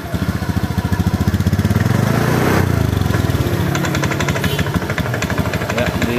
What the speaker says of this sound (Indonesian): di starter hidup ya, cuman digas mati teman-teman seperti ini